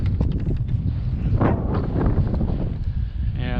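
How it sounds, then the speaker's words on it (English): Wind gusts across Grindstone Lake in New Mexico, buffeting loudly and continuously against the microphone with rumbling bursts from a kayak on the water, and no voices. "And that's the wind for the rest of the day"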